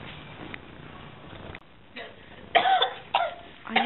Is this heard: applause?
no